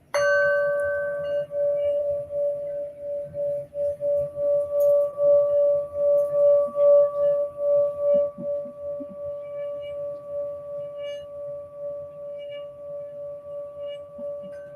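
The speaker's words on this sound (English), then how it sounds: "the singing bell." A singing bell rings out with a clear sustained tone after a sharp strike, its pulsing resonance swelling and wavering as it is played continuously, then slowly fading over many seconds.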